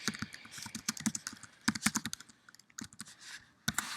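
Rapid, uneven keystrokes on a computer keyboard as account details and a password are entered, close and crisp, in bursts with brief pauses and no talking.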